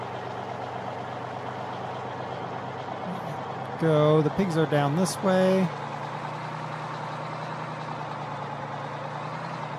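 In Farming Simulator 2013, a truck hauling a livestock trailer idles with a steady, even engine drone that runs through the whole stretch, while someone speaks briefly over it midway.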